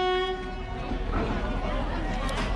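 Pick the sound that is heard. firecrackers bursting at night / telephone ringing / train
train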